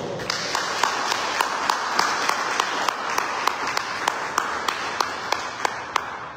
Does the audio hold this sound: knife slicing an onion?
no